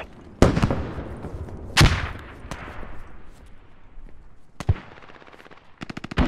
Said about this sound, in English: careful with those mortars. Those are getting danger close again.